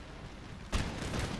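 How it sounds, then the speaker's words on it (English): A sudden burst of loud, sharp musket gunfire breaks in after quiet ambience in an Empire: Total War battle, followed by a continuing rattle of shots and cannon fire. "And then all these shots rang out."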